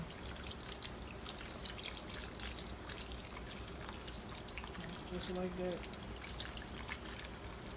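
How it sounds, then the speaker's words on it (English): Water and chicken broth pour and trickle into a cast iron skillet for seafood cornbread dressing, a steady close splashing and dribbling beneath a person talking. "And so I add chicken broth and I'm adding water also."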